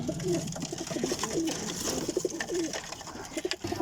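Pigeons coo repeatedly in soft, low throaty rolls, several birds overlapping close by, with faint background rustle and no talk.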